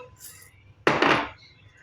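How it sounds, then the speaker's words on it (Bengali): Popcorn corn kernels are poured into hot mustard oil in a pan, making one sudden clattering rush that fades into a brief sizzle, close and alone. "সরষের তেলগুলো গরম হয়ে গেছে, এখন আমি বিচিগুলো এখানে ঢেলে দেবো।"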